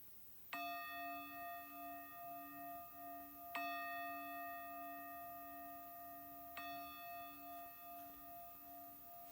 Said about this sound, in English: until you hear that final bell